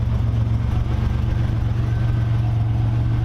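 A car with a 3-inch downpipe idles steadily just after start-up, a continuous low rumble with a constant drone that stays close and loud throughout, with no talk.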